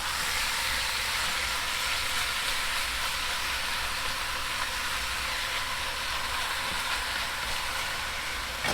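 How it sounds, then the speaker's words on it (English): Beef tips seasoned with salt, pepper and garlic searing in a hot pan, giving a steady, loud, broadband sizzle and hiss that holds evenly throughout with no talking. "We're gonna get a sear on this."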